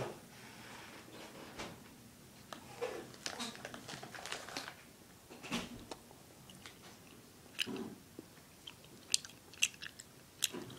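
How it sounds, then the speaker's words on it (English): Someone chewing gummy bears in another room, soft irregular bites and squishy chewing scattered across the clip, faint and somewhat distant against quiet room tone, with a few sharper crunch-like clicks near the end. "I can hear you eating gummy bears in the other room"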